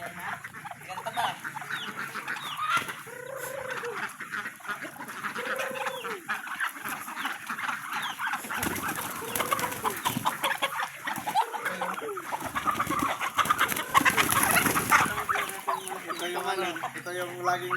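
Small backyard chickens cluck and squawk repeatedly up close, with short calls rising over steady outdoor background noise and occasional voices talking.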